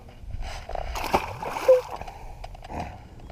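A brief splash and slosh of water close by as a released catfish drops back in, with faint outdoor background and some low voices.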